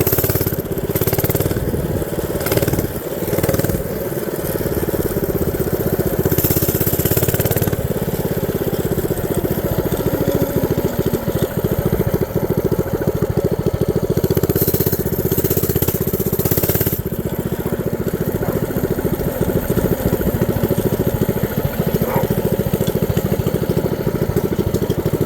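A small mini bike engine runs hard during a top-speed run, a loud, steady, continuous buzz with slight rises and dips in pitch and no speech.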